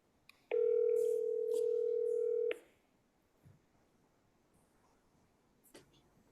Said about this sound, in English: I'm gonna go ahead and dial.